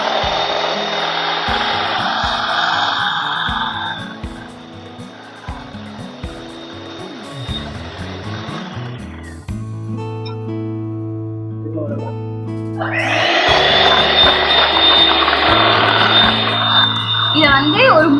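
An electric beater whirs steadily through brownie batter at home, a continuous motorized buzz that pauses midway and then resumes loudly.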